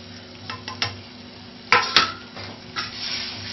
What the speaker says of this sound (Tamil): இப்போ நல்லா வதக்கணும்.